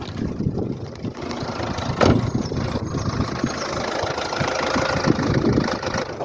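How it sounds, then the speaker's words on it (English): A 2009 Ford Fusion 1.4 TDCi diesel engine idles steadily close by, with a low, even rumble and a faint knocking rhythm, with no talking. "let me get out of the car to listen to the engine running"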